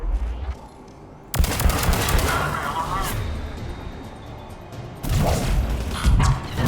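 Pistol fire in the video game Mass Effect, loud rapid bursts of shots with crashing impacts close up in two stretches, with a voice talking over it.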